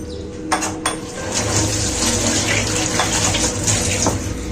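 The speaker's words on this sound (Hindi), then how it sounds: "इनको पानी में हल्का सा मैंने पानी में डाला, इसकी ऐसे स्किन को हमने उतार लेना है" Running water splashing steadily into a kitchen vessel as frozen tomatoes are dipped in to loosen their skins, a continuous close wash of sound with a few sharper clinks near the start.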